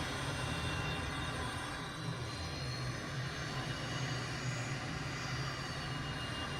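Twin-engine M346 jet trainer in Microsoft Flight Simulator 2020 beginning to taxi, a steady loud jet engine roar with a high whine running unbroken throughout, no voices.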